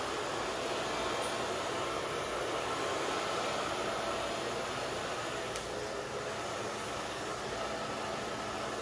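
A hair dryer on a low setting blows continuously while drying hair after a bob haircut, a steady broadband whoosh with no break and no talk.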